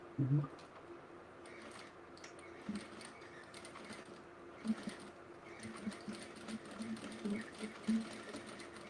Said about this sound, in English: I'm just gonna sew right across the top, right across the bottom to attach the little backpack straps